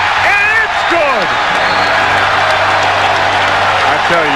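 Boston Celtics home crowd cheering after an Antoine Walker three-pointer in a 2003 playoff game against the Pacers: a loud, steady arena roar throughout, with a voice talking over it early on.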